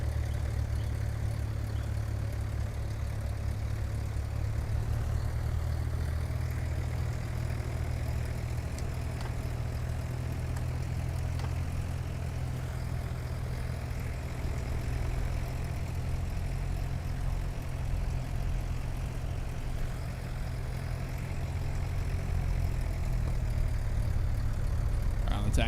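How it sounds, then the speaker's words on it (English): Lycoming engine of a Flysimware C24R light aircraft idling steadily during taxi in a flight simulator game, a loud, continuous low rumble that holds throughout with little change. "I like the sound of the engine. That Lycoming just singing, man."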